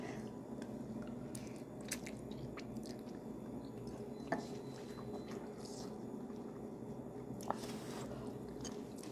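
Someone eating spicy noodles, faint close chewing and soft biting with a few small slurps, over a low steady background.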